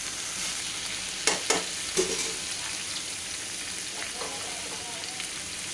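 Pumpkin sabzi fries in a pan with a steady, dense sizzle throughout, close by, broken by a few brief louder stirring knocks early on; no talking.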